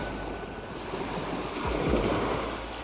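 Waves wash steadily onto an Indian Ocean shore in Australia, a continuous broad surf roar that swells briefly near the middle, with a little wind and no voices.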